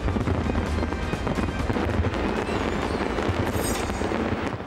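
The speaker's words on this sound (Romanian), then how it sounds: "artificii în centrul Parisului." A fireworks display over central Paris near the Eiffel Tower on Bastille Day night fills the scene with a dense, continuous barrage of crackles, pops and booming bursts, loud and sustained, with no clear voices.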